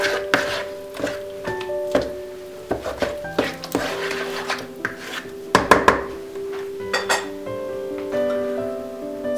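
A spoon knocks and scrapes against a bowl as apple cookie dough with a packet of vanilla is stirred, producing irregular clinks and thunks with ringing tones between them, near and fairly loud.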